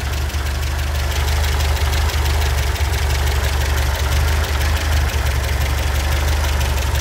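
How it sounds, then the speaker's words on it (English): A 1978 MGB GT engine idles steadily and loudly up close, a continuous low rumble with an even, slightly ticking rhythm throughout. "The engine is sweet enough, like, you can't fault it"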